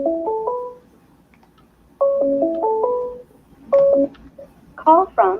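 Bursts of electronic telephone tones on a call-in radio show sound in three quick beeping groups separated by pauses, clear and alone, followed by a short cluster of warbling ring tones.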